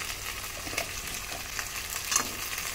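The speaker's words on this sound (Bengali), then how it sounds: "সবজি খুব ভালো করে কষিয়ে নেব" Cumin paste, ginger-garlic paste, dried red chilli paste and a little sugar sizzling in a pan for Bengali rui fish curry, a steady, soft frying hiss with a few faint stirring scrapes and no talk.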